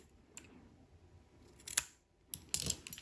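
Two crisp scissor snips trimming excess cotton wick on a Requiem RDA vape atomizer, the second cut a quick double snip, close and clear over a quiet room.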